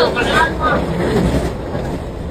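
Inside a moving train, a loud continuous rumble and rattle of the carriage fills the space while people talk nearby.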